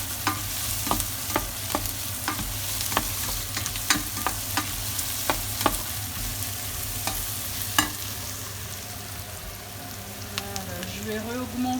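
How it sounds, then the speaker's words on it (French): Grated garlic fries in a pan while a utensil stirs it, giving a steady close sizzle broken by a string of sharp scraping clicks; no one speaks. "Je continue à remuer"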